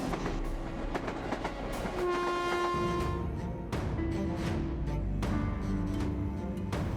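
A crowded Mumbai AC local train at Diva station rumbles and clatters over the tracks, its horn blaring in repeated long blasts over the steady rolling noise.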